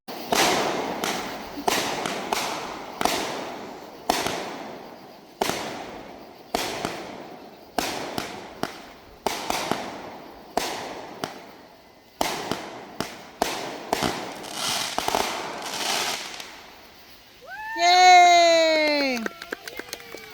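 Celebration fireworks burst in a steady series of sharp bangs about once a second, with a cluster of rising whistling tones near the end; people talk in the background.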